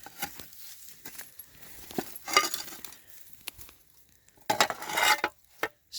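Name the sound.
dug-up teapot and stove pieces clinking when handled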